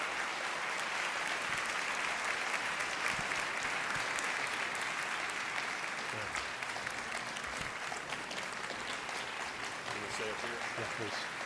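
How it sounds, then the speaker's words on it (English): An audience at a mayor's State of the City address applauds loudly and continuously after the speech, a thick wash of clapping that runs throughout, with faint voices beneath it. "Pretty sure they're clapping for you, not me."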